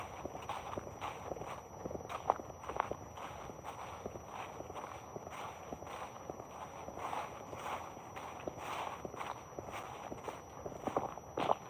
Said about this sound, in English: You hear the noise of the leaves.